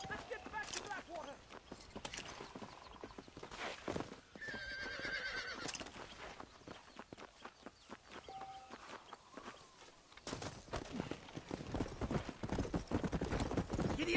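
Hooves clip-clop rapidly as a horse gallops in Red Dead Redemption, with a whinny and shouted voices over the rhythmic pounding, plus some game music and effects.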